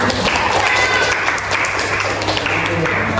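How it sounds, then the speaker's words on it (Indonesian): Steady applause from a classroom full of people, dense and continuous clapping at close range throughout. "Oke, tepuk tangan."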